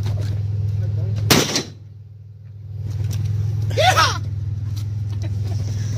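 A 30-30 rifle and a .44 cowboy gun are fired from the hip together in open country: one sharp, loud blast with a rumbling tail, followed a couple of seconds later by a shout.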